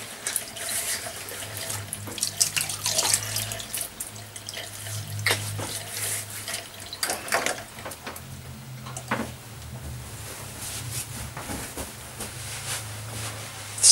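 Tap water running into a sink while a freshly wet-shaved head is rinsed off, a steady close splashing stream with occasional sharper splashes and drips.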